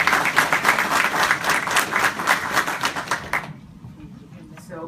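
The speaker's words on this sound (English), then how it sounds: "So can we please applaud her and her good self." An audience at a U.S. Congress event claps in a steady burst of applause for about three and a half seconds, then it abruptly stops, leaving a quiet room.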